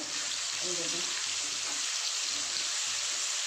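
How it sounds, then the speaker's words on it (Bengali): Spices with Kashmiri chili sautéing in oil make a constant bright hiss, while a low murmur of voices comes and goes underneath. "আর একটু কাশ্মীরি মিষ্টি দিয়ে আমি একটু সটে করে হালকা করে ভেজে নেব"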